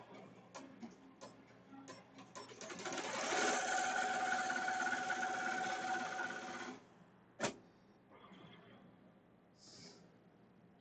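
A Melco Summit embroidery machine stitches a mug rug, its fast buzzing needle run building to a sustained loud whir, then stopping, followed by a sharp click and quieter intermittent mechanical sounds.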